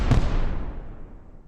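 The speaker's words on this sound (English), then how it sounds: "And lastly, our fireworks." Fireworks sound effect: a single loud, deep bang that rolls off into a fading rumble over about a second and a half, with no talking.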